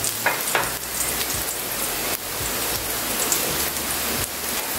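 Vegetables go into a pan of golden-brown garlic and onion frying in oil, giving a loud, dense sizzle with a few spattering bursts and stirring knocks throughout.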